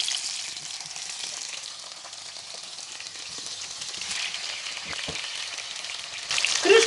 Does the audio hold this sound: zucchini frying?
yes